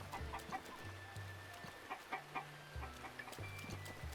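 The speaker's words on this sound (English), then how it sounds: "Chickens." Chickens cluck repeatedly in the Breath of the Wild video game on Nintendo Switch 2, soft overlapping clucks in an irregular rhythm over a low ambient game background, quiet and moderately near.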